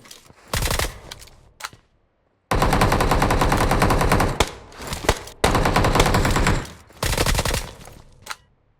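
Rapid automatic gunfire from a video game shooter, coming in several loud sustained bursts separated by short pauses, with single shots in between and no voices.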